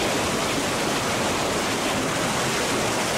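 A river flows over stones on a spring day, making a loud, steady, even rush of water that fills the whole stretch without pause or voices.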